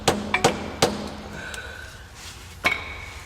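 About five sharp metallic hammer taps ring out on a 2002 Ford Focus axle as it is driven out during a clutch replacement. The strikes are close and uneven, with a long pause before the last one.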